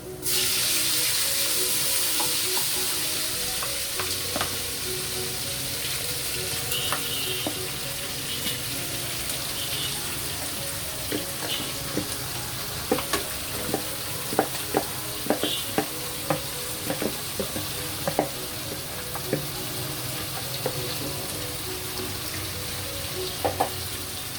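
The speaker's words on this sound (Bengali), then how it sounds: "এবার আমি ম্যারিনেট করা মাংসটা দিয়ে দিচ্ছি।" Marinated deshi chicken sizzles loudly in hot oil in a pan while being stirred, a constant close frying hiss with scattered scraping and clacking spoon strokes growing more frequent in the second half.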